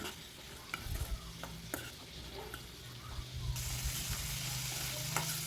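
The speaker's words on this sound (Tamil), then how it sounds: "ரெண்டையும் ஒன்றா வதக்கிக்கலாம்" Sliced shallots and onion sautéing together in a pan for a coriander chutney: a constant sizzle with clattering stirs and spoon knocks, growing louder and fuller partway through.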